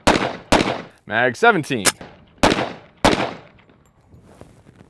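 Sharp gunshots from a double-barrel pistol ring out one after another at close range, loud cracks separated by brief gaps, with someone speaking briefly between the shots.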